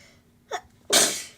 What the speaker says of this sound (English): The morning sneeze.